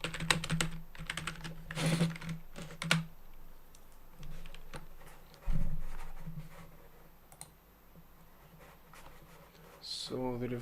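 Keys clatter on a computer keyboard while code is entered, quick bursts of close clicks and taps with pauses between, alongside a few soft thumps.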